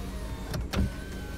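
Electric one-touch front window of a 2018 Honda Fit 1.5 CVT, a brief motor whir with a soft thump, heard close inside the car over a low cabin hum.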